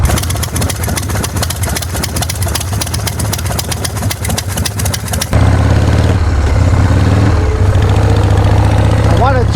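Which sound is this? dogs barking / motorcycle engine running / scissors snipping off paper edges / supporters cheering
motorcycle engine running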